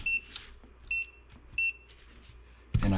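A multimeter beeps in continuity mode while testing wiring on a 2007 Silverado, giving three short, high, evenly spaced beeps close by, with faint clicks between and a louder rustling thump at the end.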